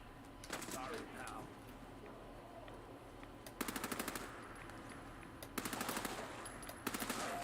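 Automatic gunfire bursts in Fallout 4, several short rapid rattling volleys spaced a couple of seconds apart over a steady low game hum, with a voice speaking in between.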